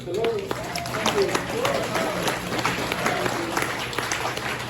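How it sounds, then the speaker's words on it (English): An audience at a bistro happy hour claps briefly for the fiddle and trumpet players, with scattered applause over a steady background hum and what sounds like a voice speaking. "a round of applause over here on fiddle and trumpet, Devin Bridgewater"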